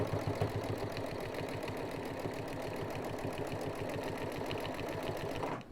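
A sewing machine stitching binding onto a quilt, a fast steady mechanical chatter with rapid even needle strikes running continuously close up, then stopping abruptly at the end.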